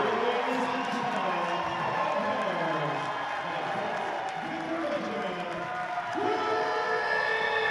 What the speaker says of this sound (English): And the crowd here in Pittsburgh on their feet.